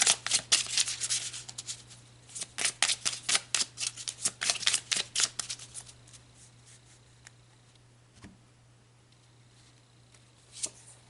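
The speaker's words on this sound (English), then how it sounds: "So let's pull some more cards." Tarot cards being shuffled and drawn, a rapid run of crisp riffling flicks close by that slows into a few separate card snaps, then near quiet with a final soft flick.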